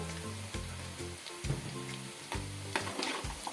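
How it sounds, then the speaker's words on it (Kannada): Onions sizzle loudly in a pan for desi-style chicken curry, a dense, steady crackle with occasional stirring scrapes over low background music. "ಗೋಲ್ಡನ್ ಬ್ರೌನ್ ಕಲರ್ ಆಗುತ್ತಲ್ಲ ಫ್ರೈ ಮಾಡ್ತೀವಿ ಉಳ್ಳಾಗಡ್ಡಿ"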